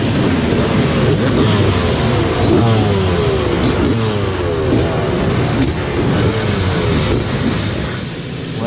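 A crowd of two-stroke motocross bikes packed at a nationals start gate rev together in a dense, loud, continuous buzzing snarl. Overlapping engine pitches rise and fall throughout, with no talk.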